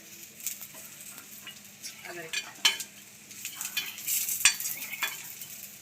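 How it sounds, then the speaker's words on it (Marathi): Chickpeas dry-roast in a clay pot, scraped and stirred with a utensil: a soft sizzling hiss broken by scattered scrapes and clinks, close and fairly quiet, with no one talking. "आता आपण हे चणे भाजायला टाकणार आहेत"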